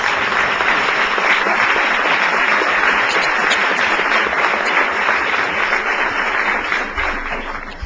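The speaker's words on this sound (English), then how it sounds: "let's ask them to stand and give them a round of applause" Audience applause at a luncheon fills the room, a dense, steady wash of many hands clapping without voices, fading slightly at the end.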